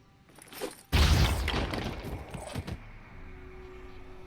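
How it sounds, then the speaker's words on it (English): Grenade explosion in the video game Phoenix Point, thrown at worm creatures: a sudden heavy blast followed by a rumbling, crackling tail of debris that fades into a low steady hum. "let's throw the grenade on the worms"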